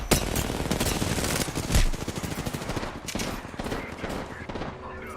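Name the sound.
gunfire in the video game Call of Duty: Warzone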